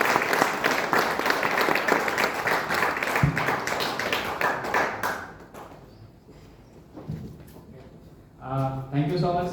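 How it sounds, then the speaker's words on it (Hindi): Loud audience applause at a stage event, dense clapping for several seconds that fades and breaks into scattered claps, followed by a voice talking. "जोरदार तालियों से।"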